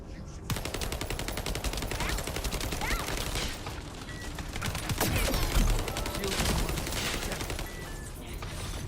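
Rapid, continuous turret gunfire in the video game The First Descendant, a dense rattling stream of shots that runs nearly the whole time with dense game effects layered over it.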